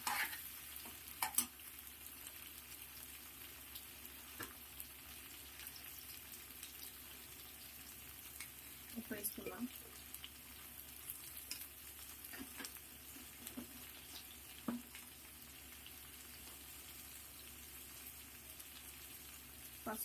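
Ivy gourd (dondakaya) frying in a pan with salt and turmeric, a steady soft sizzle running throughout, with occasional louder stirring scrapes and clinks.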